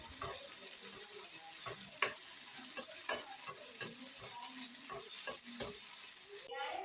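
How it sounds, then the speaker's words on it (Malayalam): Raisins frying in hot ghee while being stirred, a steady close sizzle with repeated scraping and clinking strokes of the spoon against the pan throughout. "നെയ്ക്കകത്തോട്ടിട്ട് നല്ലപോലെ ഒന്ന് വറുത്തെടുക്കുന്നുണ്ട് ഉണക്കമുന്തിരിയെ"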